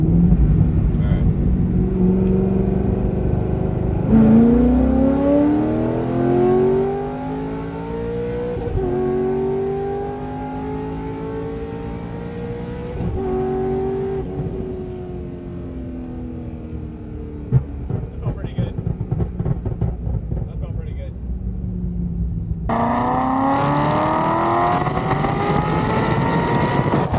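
Corvette C6 Z06 accelerates hard through high RPM, its V8 wail climbing steadily in pitch through long pulls with a gear change, loud and close from inside the car.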